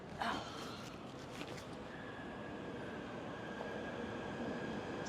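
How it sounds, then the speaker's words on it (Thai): A train arrives at a station in Kuala Lumpur, Malaysia, rumbling steadily with a broad, continuous roar, a brief clatter near the start and a faint high squeal running underneath. "รถไฟเราก็มาแล้วนะคะทุกคน"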